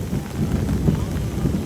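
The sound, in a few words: thunderstorm with thunder and rain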